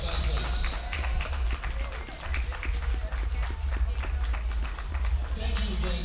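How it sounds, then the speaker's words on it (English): A crowd at an ice hockey arena, Clifton versus WMPQPL, claps for the teachers, scattered applause echoing in a big rink over a heavy low rumble and crowd murmur. "Let's give our teachers a round of applause for everything they do to make our school a better place."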